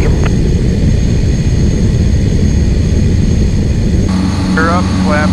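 Inside a Cessna Caravan 208 turboprop on its takeoff roll, the engine roars loud and constant with a high turbine whine, while radio chatter and cockpit voices cut in over it.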